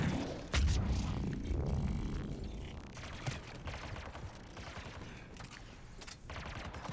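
Enemy gunfire in the shooter Mass Effect 3 on Wii U: loud, dense volleys of rapid shots and booming impacts, strongest in the first seconds and then continuing in sharp scattered bursts.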